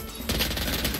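Gunfire from the video game Valorant crackles in a fast, dense burst of rapid shots, loud and close, lasting about a second.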